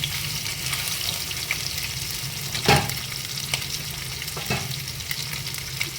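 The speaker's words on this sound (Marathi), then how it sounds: "क्रिस्पी अशी स्लो फ्लेमवर भाजून घेऊ." Fish frying crisp in oil over a slow flame, a steady close sizzle broken by a couple of louder stirring scrapes, with no one talking.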